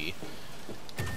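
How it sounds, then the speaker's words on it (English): Steady rain falls outside in Night City in Cyberpunk 2077, a soft continuous patter in the background, with faint water dripping and a few brief indistinct sounds over it. "Currently raining outside here in Night City."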